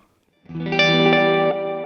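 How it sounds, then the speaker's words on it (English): Electric guitar run through an Empress Effects Echosystem delay set to dotted eighths in a Duchess amp's effects loop, a chord entering after a brief silence and repeating in rhythmic echoes that blur into a shimmering sustained wash. "It is the dotted eighth delay trick, and I have the echo system from Empress Effects running into the effects loop of the Duchess."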